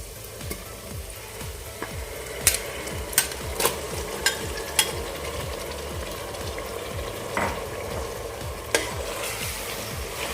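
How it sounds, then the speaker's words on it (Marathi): Marinated prawns fry in a pan for spicy prawn biryani, giving a soft, even sizzle broken by sharp scraping strokes of a spoon stirring them, with no talk. "आपण यामध्ये मॅरिनेशन झालेली कोळंबी घालून घेऊया"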